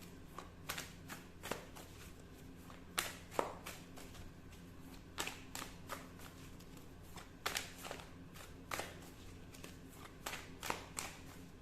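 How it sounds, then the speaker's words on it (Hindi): Tarot cards being shuffled for a love reading, a run of crisp riffling bursts at irregular intervals over quiet room hum, close and fairly soft, with no talking. "King of Wands"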